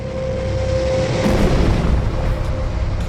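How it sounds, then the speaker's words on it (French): Deep rumbling blast of a meteorite crashing into the Moon, rendered as a sustained roaring boom that swells and churns for a few seconds with a thin high tone fading early. "Ce fut une explosion gigantesque qui a laissé un trou énorme."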